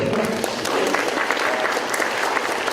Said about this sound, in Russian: Похлопаем всем попозже